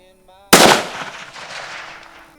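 A single loud rifle shot cracks at an outdoor shooting range during hunting preparation, with the report decaying into a long echoing tail.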